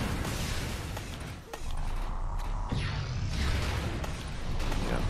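Bone saw attacks hit the scrapper boss in the video game Defiance 2050, a dense, continuous grinding and clattering with bursts and whooshes layered over steady combat noise.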